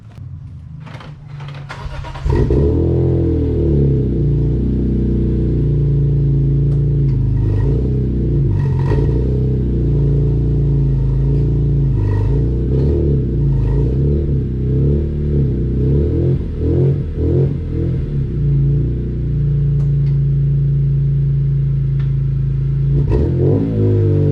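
A BMW E46 M3 cold-starts with a cranking burst, then settles into a loud, close, rumbling idle, broken by several rising and falling revs.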